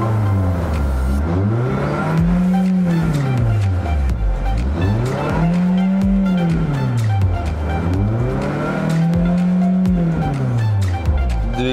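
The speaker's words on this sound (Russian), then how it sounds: "Давайте-ка протестируем двигатель и покажем пробег от этого автомобиля." A 2009 Toyota Venza with a 2.7-litre engine, automatic gearbox and all-wheel drive, showing 212,000 km, is revved close by in three smooth rising and falling sweeps over a steady running drone.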